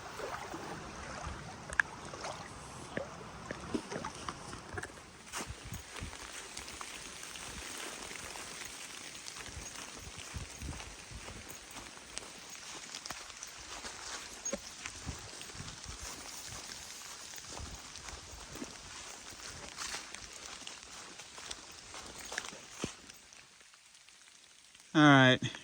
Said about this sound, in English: It's just been pissing rain.